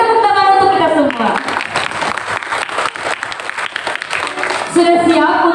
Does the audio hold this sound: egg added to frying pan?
no